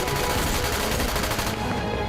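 Dense, rapid gunfire fills the scene in a Filipino TV drama, continuous loud bursts of shots with no pauses, ending slightly quieter.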